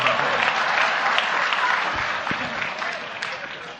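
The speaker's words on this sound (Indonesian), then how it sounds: "Tepuk tangan," An audience claps loudly and steadily at a religious discussion gathering, a dense sustained round of applause that slowly fades.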